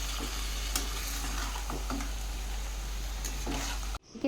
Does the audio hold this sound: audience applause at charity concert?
no